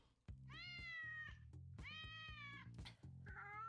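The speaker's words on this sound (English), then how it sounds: "here's the killer cat fight one." Recorded cat fight playing: loud, drawn-out yowls and meows from the fighting cats, rising and wavering in long howls with short gaps between, close and clear with no talk over it.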